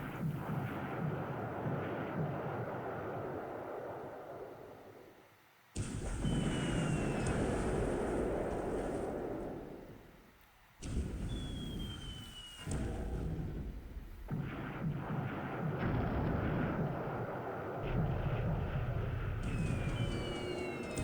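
Dive bomber attacks in the War in the Pacific game, with loud aircraft engine roar and bomb blasts that cut in and out in long sections, a few whistling tones sliding across them.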